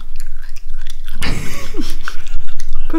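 Close, wet crunching and chewing of crisp salmon chips, with a louder bite burst partway through over a steady low background hum.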